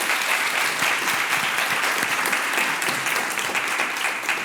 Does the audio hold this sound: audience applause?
yes